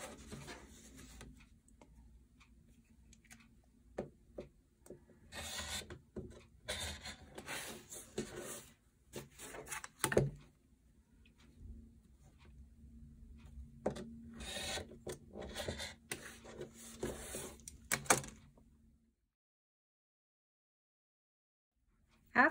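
A rotary cutter or blade trims pressed quilt blocks to 2.5 inches in a quiet indoor setting. Faint scraping and rasping strokes come in irregular bursts close by and stop near the end.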